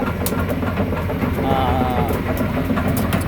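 A Kobelco SK200-10 SM hydraulic excavator with a Hino engine of about 155 hp works at a pond site in Buriram, its loud, steady low engine rumble running throughout with clanking and faint squeals.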